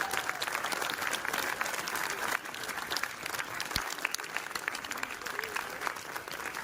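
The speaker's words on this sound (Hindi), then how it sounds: "डबल तालियां इन लोगों के लिए, जोरदार तालियां।" Loud, sustained applause from a student audience at a New Year celebration, continuous hand clapping filling the hall with brief irregular peaks and no speech on top.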